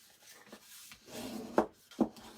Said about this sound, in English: I'm going to take my bone folder, and I'm going to score it